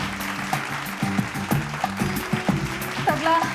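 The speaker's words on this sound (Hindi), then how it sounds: "जोरदार तालियां हो जाए इनके लिए" Applause from an audience at an Outlook Group awards ceremony in Bihar greets an honoree. Steady clapping runs through the whole stretch, with music and background voices mixed in.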